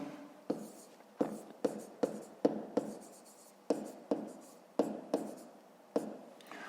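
A pen scratching across paper as a fifth-grade maths exercise is written out, a steady series of short, sharp strokes in quick succession, close and clear with no speech over it.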